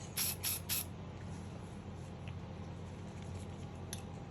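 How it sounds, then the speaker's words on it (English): Cleaner is sprayed inside a handgun barrel in three quick, close aerosol bursts at the start, followed by quiet handling and a faint low hum. "We're going to spray inside the barrel again."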